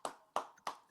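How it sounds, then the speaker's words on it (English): Three sharp, evenly spaced hand claps, close and fairly quiet, with no other sound around them. "Can we all just have a round of applause for Invincible?"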